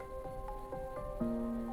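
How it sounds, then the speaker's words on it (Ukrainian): Rain falls outdoors by a family home, heard as faint scattered patter and drops on surfaces, with a few soft tonal sounds ringing over it. "І сьогоднішній дощ дуже символічний."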